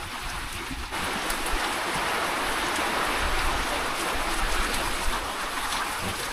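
Steady rain falling during monsoon weather at a harbor in Barangay Milgar, a dense continuous hiss with no talk, slightly quieter for the first second and then constant.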